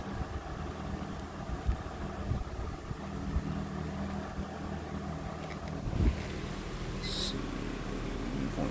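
A 1960s Emerson Electric 20-inch reversible box fan with a PSC motor runs steadily nearby, giving a continuous low motor hum and whooshing airflow that brightens slightly near the end.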